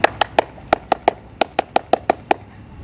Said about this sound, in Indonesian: saya tutup materi saya dengan tepuk